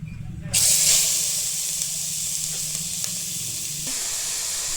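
A loud hiss of sizzling starts suddenly and continues steadily as about 1.25 kg of carrots drop into hot ghee in a pot, with faint sounds of handling in the background.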